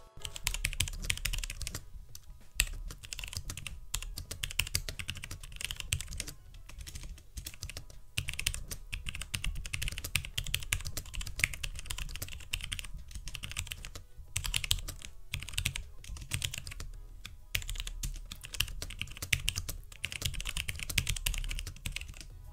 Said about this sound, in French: Pour ce qui est du bruit du clavier, il est plutôt silencieux par rapport notamment à mon ancien clavier